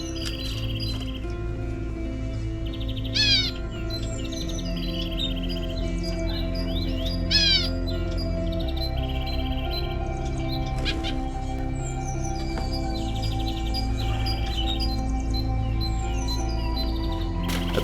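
Finches and parrot finches chirp as they are released into a home aviary. Short, repeated tweets and rising chirps come through over a constant low hum and an insect-like buzz.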